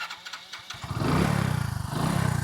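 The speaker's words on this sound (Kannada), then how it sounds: "ಗಾಡಿ ಒಂದು ಸಲ ಚಾಲು ಮಾಡಿ ತೋರಿಸ್ತೀನಿ ನೋಡ್ರಿ ಗಾಡಿದು ಸೌಂಡ್ ಇಂಜನ್ದ ಸ್ಟಾರ್ಟರ್ ಐತ್ರಿ." A 2019 Hero HF Deluxe motorcycle is started with its starter. A short whirr and cranking lead into the single-cylinder engine catching, after which it settles into a steady, close-up pulsing idle.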